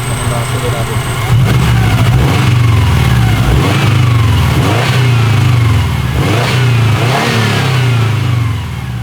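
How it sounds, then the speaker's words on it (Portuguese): A car engine revs hard while accelerating, loud and close, with repeated rising and falling surges over a steady engine rumble, the pitch climbing and dropping several times. "Então vamos dar uma acelerada aqui."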